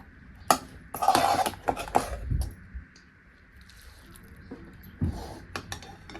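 A dry drumstick (shevga) vegetable dish being served onto a plate, with scattered close clinks and scrapes of a spoon against pan and plate, separated by quiet gaps, no talk.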